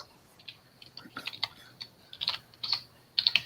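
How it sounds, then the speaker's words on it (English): Computer keyboard keys clatter in short irregular bursts, crisp and close, with brief pauses between clusters of taps and no voices. "while I'm typing this"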